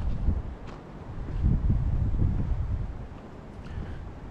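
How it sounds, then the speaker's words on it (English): Wind blows outdoors with a steady low rumble that swells and buffets the microphone, with no voices. "You can say what you want about that wind"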